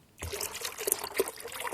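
Five litres of water poured out of a bucket, a close, steady splashing stream that starts abruptly and keeps gurgling throughout, fairly quiet with no talking.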